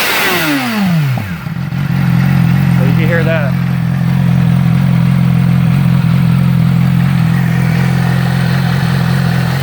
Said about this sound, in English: this is what it revs like with the exhaust valve open